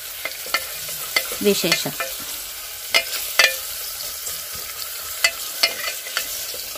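Onions sizzle in hot oil with a cumin tempering for an aloo methi pulao, stirred with sharp scraping clicks of a spoon against the pan at irregular intervals over a steady frying hiss.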